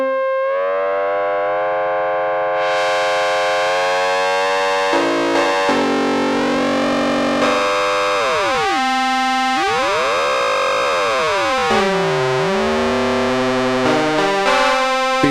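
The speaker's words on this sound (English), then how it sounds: "So if we go to modulate oscillator A with oscillator B." A Prophet 5 Rev4 analog synthesizer plays with oscillator A modulated by oscillator B, giving loud, siren-like sweeping tones that bend and warble, with metallic, distorted harmonics as the pitch glides up and down.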